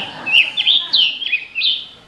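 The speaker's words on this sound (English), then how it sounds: "in the more dense eastern forests, the pitch of the bird's call is a little higher" A wild bird's high chirping call from a dense eastern forest, several quick bright tweets in uneven bursts, clear and close with no talking.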